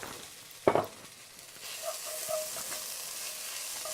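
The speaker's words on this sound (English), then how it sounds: "So we're mixing that garlic in with our lovely roux and our veggies." Garlic and vegetables stirred into a roux in a hot pan, a sharp clatter of the spoon early on followed by a steady, moderately loud sizzle with soft stirring scrapes and no talk.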